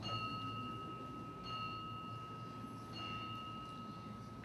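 A bell at a Lions Club memorial service, struck three times at a steady spacing, each strike a sustained pure ringing tone heard faintly over a quiet room murmur.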